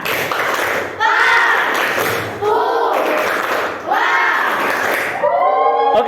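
A group performing the Papua clap at a gathering, rhythmic bursts of clapping and stamping alternating with shouted group chants, loud and close.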